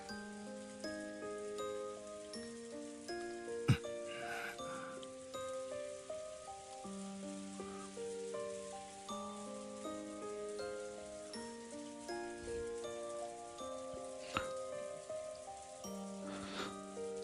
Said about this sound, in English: Badler stood alone in the rose garden maze, letting the rain quietly fall on him.